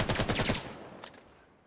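A rapid burst of automatic gunfire in the VR shooter Vail VR, fired from a gun braced against a table, ends after about half a second and leaves a fading echo and a faint later shot.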